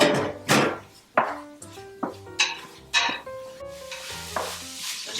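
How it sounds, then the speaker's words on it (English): Spiced turkey chili with softened onions stirred in a pan, a wooden-sounding scrape and knock repeating every half second or so, close and fairly quiet, with a light sizzle underneath. "So just stir everything up, make sure it's well mixed in there."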